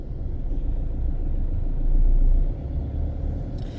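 Steady road traffic of cars in Vientiane, Laos, on a busy weekday morning, a continuous engine rumble that swells as a vehicle passes near the middle, then eases back, with no talking.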